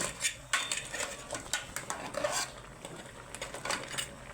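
Crab being stirred with bell pepper in a metal pan: steady clinks and scrapes of a utensil against the pan in an uneven rhythm, fairly quiet and close, with no talking.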